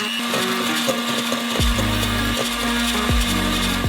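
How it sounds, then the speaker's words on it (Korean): An electric mixer whips a single egg white into fluffy foam for nut nougat, its steady motor whine running throughout, with the pitch dropping and shifting twice as the beaters bog down in the thickening whites. "푹신한 거품이 생길 때까지 믹서기로 휘핑해줘요."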